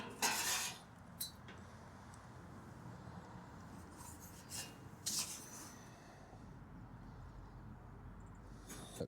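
A Harbor Freight metal shear cuts through sheet metal, giving a faint, steady grinding rasp with a few louder scraping, clattering spikes, heard alone and quiet throughout.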